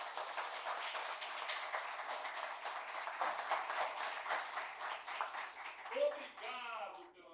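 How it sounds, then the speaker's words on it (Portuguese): Sustained applause from participants at a São Paulo city climate-change executive group meeting, a steady wash of many hands clapping for several seconds, fading at the end as a voice begins speaking. "Peço uma salva de palmas aqui para os nossos amigos."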